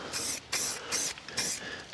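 A can of spray paint hisses in three or four short bursts, loud and close, with brief pauses between sprays.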